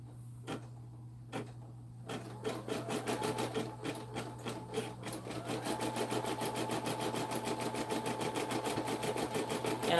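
Sewing machine stitching veins on a box, starting with a few separate thumps and then settling into a fast, steady mechanical rattle that runs alone and close, with no talking.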